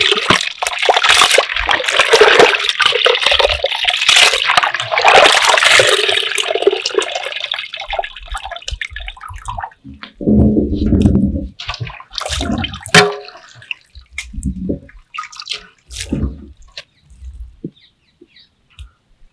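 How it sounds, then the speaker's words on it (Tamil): Snails being rinsed in water by hand in a village setting, loud sloshing and splashing in a container for several seconds, then quieter intermittent swishes and drips as the rinsing slows. "இப்படி அலசி எடுத்துக்கிட்டோம்னா இதோட நல்ல அழுக்குலாம் எல்லாம் போயிடும்."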